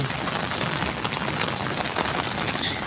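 Heavy rain pours down steadily on a village in Pakistan, a dense continuous hiss of drops striking surfaces close by, with no voices.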